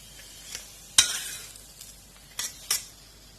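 Vada fries in hot oil in a home kitchen, a soft sizzle under sharp clinks and scrapes of a metal utensil stirring the pan, heard close with no talking.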